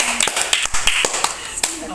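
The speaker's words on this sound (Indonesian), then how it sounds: "Tepuk tangan untuk Tatiana." Small classroom group applauding a student during a micro-teaching lesson: scattered, uneven hand claps close by, with voices underneath.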